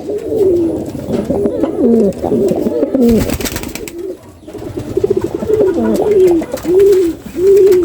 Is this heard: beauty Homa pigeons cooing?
yes